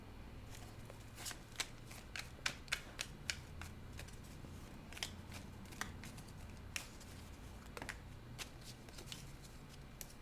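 Tarot cards being shuffled by hand, with soft riffling and a steady stream of crisp, irregular snaps and flicks close by, fairly quiet against a low room hum, and no talking.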